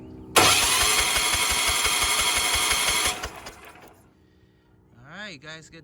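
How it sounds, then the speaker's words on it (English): A discarded, trashed leaf blower's small engine fires up and roars loudly for about three seconds, then sputters and dies away, followed by a person talking nearby. "The engine starting."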